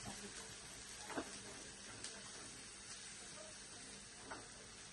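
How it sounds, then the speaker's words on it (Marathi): Onion sautéing in a pan as the base for an oyster dish in Koli-style home cooking, a steady faint sizzle with a few soft clicks of stirring, heard alone. "हा कांदा परतवायला लावलेला आहे कालवांसाठी."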